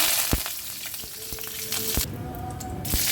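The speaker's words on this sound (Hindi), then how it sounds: "दाल की भाजी बनाने के लिए कढ़ाई में डालते हैं तेल। तो अब डालते हैं राई, जीरा" Mustard seeds, cumin and curry leaves sizzle in hot oil in a kadhai, a loud, steady crackling hiss with scattered pops throughout, with no talking.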